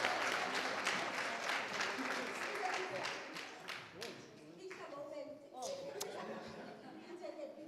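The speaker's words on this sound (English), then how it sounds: "A round of applause for all our poster competition winners." Applause for poster competition winners at an academic finals event, clapping strongest at first then thinning out as voices and chatter come in over it.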